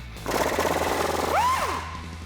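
A socket wrench works a shock bolt on a Jeep Wrangler TJ during a lift kit install, giving a steady buzzing mechanical rattle for about a second and a half, close and fairly loud, ending in a brief rising whine.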